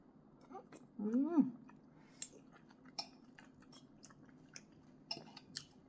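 Khanom jeen rice noodles in a spicy canned-fish curry being chewed at close range, with soft wet mastication and a few faint crunchy ticks, plus a brief hummed vocal sound early on in a quiet room.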